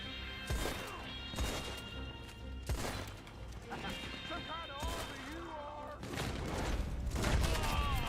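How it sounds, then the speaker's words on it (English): Rapid gunfire bursts from machine guns in the video game Red Dead Online, loud sharp cracks with dense overlapping impacts through the clip, with voices and game music layered underneath. "I hate these machine guns"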